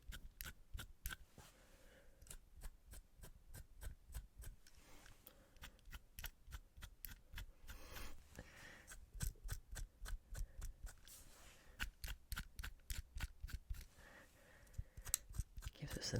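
A fidget cube's metal ball bearing rolls and clicks in rapid, even bursts of tiny close ticks, quiet and intimate in ASMR style, with pauses between runs.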